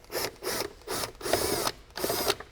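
A T20 screw is backed out of the intake pipe of a BMW G30, heard as several quick ratcheting bursts in an even on-off rhythm, close and clear with no voices.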